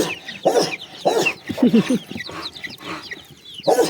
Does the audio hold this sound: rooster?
yes